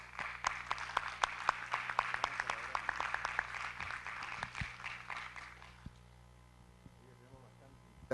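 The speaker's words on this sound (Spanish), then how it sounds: "Un aplauso para ellos" Applause for visiting prosecutors from the United States at a gathering: a moderate round of clapping over a low hum, with a voice mixed in, tapering off and fading to near quiet after about six seconds.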